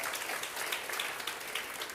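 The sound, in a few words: applause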